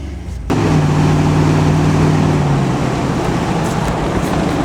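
Cab interior of a GMC Sierra crew cab pickup truck on the road, a steady low engine and road drone after a brief quiet start, with a humming tone for the first couple of seconds.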